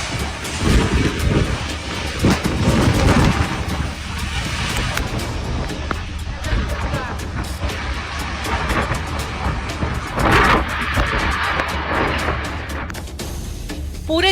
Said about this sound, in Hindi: पूरे दुबई ने इससे पहले इतनी भयंकर बारिश नहीं देखी थी।